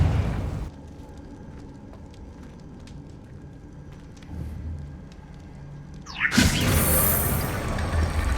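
A Confringo blasting spell in Hogwarts Legacy: a quiet stretch of faint clicks and hum, then a sudden loud fiery burst that roars and crackles on to the end.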